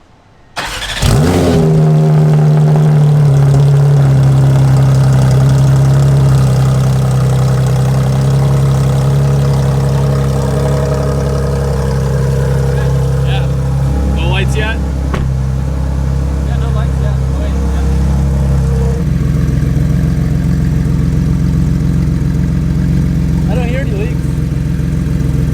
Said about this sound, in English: I'm still going to start it just to make sure we don't have any exhaust leaks